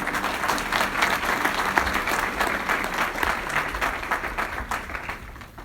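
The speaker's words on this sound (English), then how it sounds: "another round of applause, please, for that" An audience at a Sathya Sai birthday celebration in Northern California bursts into sustained, dense clapping, steady and loud throughout before tapering slightly at the end.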